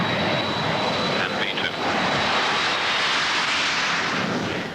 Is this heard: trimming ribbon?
no